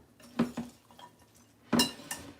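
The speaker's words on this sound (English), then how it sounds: "let me get my spoon back in here to stir it up" A spoon stirring honey walnut shrimp in a pan, two pairs of metallic scraping clinks about a second apart, close and crisp, with quiet gaps between them and no talking.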